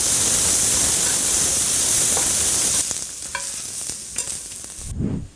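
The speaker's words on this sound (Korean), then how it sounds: "여기다가 또 식용유를 조금만 또 넣고 당근을 볶을 겁니다" Carrots stir-fry in a little cooking oil for japchae, a steady close sizzle with stirring scrapes that eases off midway into quieter, sparser frying and a few utensil knocks.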